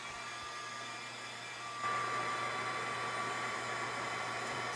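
An electric heat tool warming embossing powder blows a steady, close whooshing hum with no pauses, growing slightly louder partway through.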